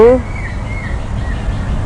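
Birds call outdoors in a natural setting, a few thin whistled chirps rising and falling over a steady wind-like background hush, faint and somewhat distant.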